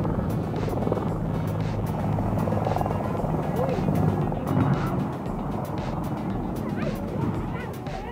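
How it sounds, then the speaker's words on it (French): A military helicopter lifts off near a football field's power cables, its rotor and engine a loud, steady roar throughout, with faint voices and a dog's bark mixed into the din. "Un hélicoptère militaire s'est emmêlé dans les câbles électriques d'un terrain de foot pendant le décollage."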